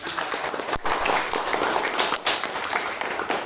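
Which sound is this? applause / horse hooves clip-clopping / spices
applause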